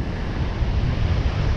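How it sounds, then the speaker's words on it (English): Rough ocean surf rolling in at high tide on a remote beach, a steady broadband wash of breaking waves mixed with gusty wind buffeting, loud and continuous without any voices. "High tide is rolling in."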